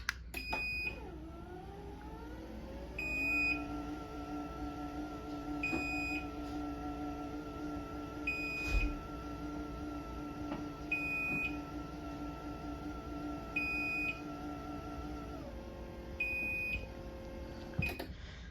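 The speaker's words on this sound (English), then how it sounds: "this one does have the higher pitched beep" LiftMaster 8550w garage door opener emitting a series of high-pitched beeps at regular intervals of roughly two to three seconds, over the steady hum and whine of the motor running the door slowly on battery power.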